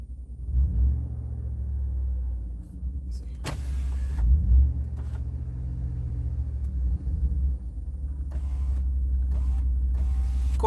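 A Chevrolet Corvette engine runs with a steady, deep low rumble from inside the car. Brief mechanical clicks and whirs sound over it, and no one speaks.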